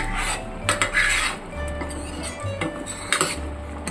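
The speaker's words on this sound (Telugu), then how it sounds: "కొంచెం మనం కలిపించుకుంటూ" A spoon scrapes and clinks against a pot while stirring chana dal, pumpkin and coconut payasam with cardamom, with repeated close metallic knocks and scraping strokes over a low steady hum, and no talking.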